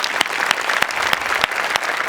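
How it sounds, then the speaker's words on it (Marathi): Steady audience applause fills the short stretch, dense clapping with a few sharper slaps standing out, loud and continuous from start to end. "सो तुझ्या पॅशनसाठी माझ्याकडून खरं तर टाळ्या"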